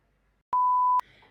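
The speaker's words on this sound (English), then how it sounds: "the little like alarm, this is what I call it, will show you where they are" A single loud, steady electronic beep from the Apple Vision Pro's item-finding alarm, used to locate the headset when misplaced. It holds one pure tone for about half a second, then cuts off abruptly and leaves only faint residual noise behind.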